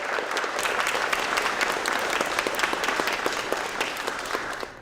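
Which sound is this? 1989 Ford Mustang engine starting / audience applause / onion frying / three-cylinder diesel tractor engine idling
audience applause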